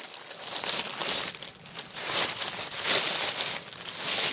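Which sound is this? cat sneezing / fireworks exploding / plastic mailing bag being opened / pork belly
plastic mailing bag being opened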